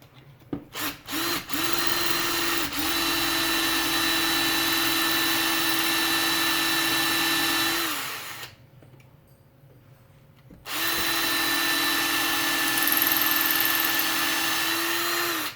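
A power drill works on a 1:4 scale Wolverine sculpture build, its loud, steady motor whine running in two long bursts separated by a short pause, with a few brief starts at the beginning and no talking.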